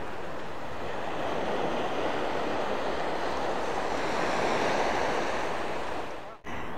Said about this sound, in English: just come out of the park, down under the tunnel, and out onto this beautiful beach